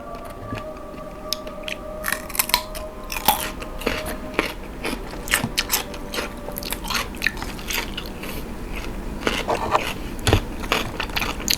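Close, loud crunching and wet chewing of blanched jumbo cockles, with irregular crisp bites and squishy mastication repeating throughout.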